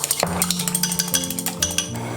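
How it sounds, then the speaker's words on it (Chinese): Two eggs are beaten in a bowl with a rapid, even run of light clinking whisk strokes, close and steady throughout, with no talk. "准备2个鸡蛋打散"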